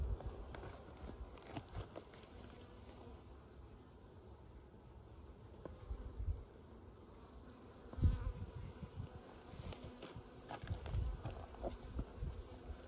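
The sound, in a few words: honeybees buzzing at a hive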